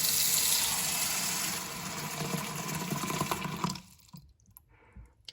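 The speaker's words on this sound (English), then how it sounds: "We're gonna put this water in here as well." Water poured into a cooking pot while making Dr. Seuss inspired snacks, a steady splashing stream for several seconds that stops abruptly, leaving a quiet room with a few faint clinks.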